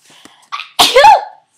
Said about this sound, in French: J'ai le goût d'éternuer.